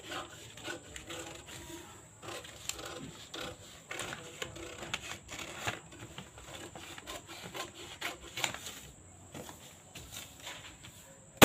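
Scissors cut through cotton blouse fabric for a 32-inch katori blouse, giving a run of close, dry rasping snips and rubbing strokes in an uneven rhythm, fairly quiet, with no voice over them.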